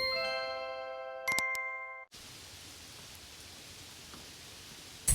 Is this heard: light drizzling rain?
yes